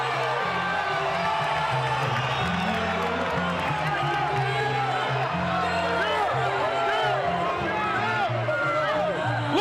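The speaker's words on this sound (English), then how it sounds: "The crowd is going bonkers." A packed boxing arena crowd roars and cheers wildly, with whoops, whistles and clapping in a constant loud wall of noise, while commentators talk over it.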